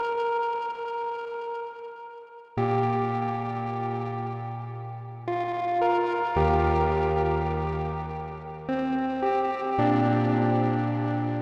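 Sustained Arturia PolyBrute synthesizer chords shifting in steps, each washed in lush reverb and echo tails, played alone without any voices.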